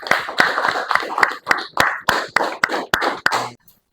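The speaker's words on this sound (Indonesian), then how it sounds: "Beri tepuk tangan dulu." Short burst of hand clapping from a small classroom group welcoming a student group presentation, rhythmic and close, fading out at the end.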